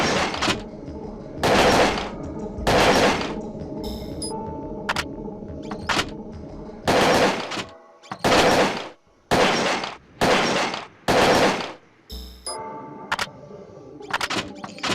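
Rifle shots at the shooting range in the video game Parasite Eve II, a series of loud, sharp reports spaced one to two seconds apart, with quieter game sounds in the gaps between shots.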